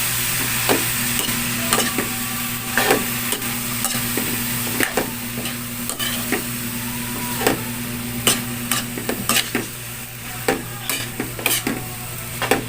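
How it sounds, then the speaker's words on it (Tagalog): Bitter gourd (ampalaya) sizzles steadily in a hot pan, with repeated scrapes and clinks as a utensil stirs it, close and fairly loud, no talking. "ganyan lang ako guys magluto ng ampalaya"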